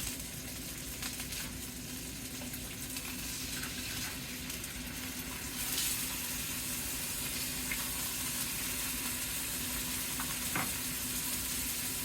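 Pork pieces frying in a pan while being turned, a steady soft sizzle with faint scraping and stirring touches, moderately close and without talk.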